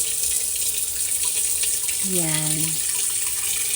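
Tap water pours steadily into a saucepan for mashed potatoes, a continuous close splashing rush, with a brief voice heard over it partway through.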